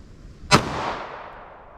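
A single sharp gunshot from a .380 ACP Ruger LCP pocket pistol firing hot ammunition, a loud close crack followed by a brief ringing tail outdoors.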